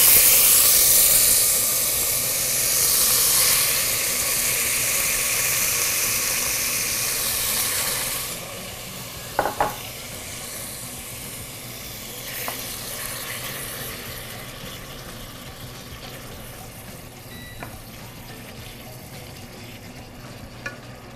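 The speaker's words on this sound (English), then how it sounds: "You want to have a high heat on this because you want to keep them frying." Loud, constant sizzling of meat pieces stir-frying in hot oil over high heat, with occasional scrapes and clinks of stirring against the pan.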